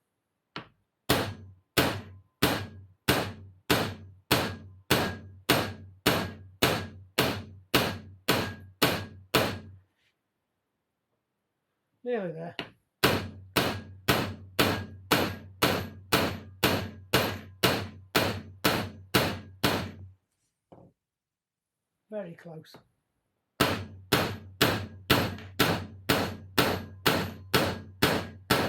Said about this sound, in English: hitting one hammer with another, but it appears to be working